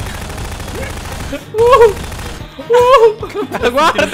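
Gunfire in Garry's Mod, a game, as bursts of shots crackle beneath excited voices talking loudly over the action throughout.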